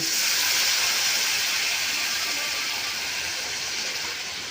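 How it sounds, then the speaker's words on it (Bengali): Water poured into a hot pan of frying soybean and potato curry, setting off a loud, broad sizzling hiss that fades slowly and steadily over several seconds, with no talking. "জল ঢেলে দিচ্ছি"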